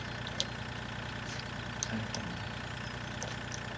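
A tractor engine idling in the farming game Farming Simulator 2013, a steady low droning rumble that holds even throughout, with faint clicks and small sounds over it and no talking.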